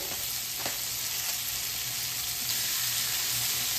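Sliced garlic sizzles steadily in a pan with shallots, salt and Italian sausage, a constant close hiss of frying with faint scraping as everything is stirred together, no voices.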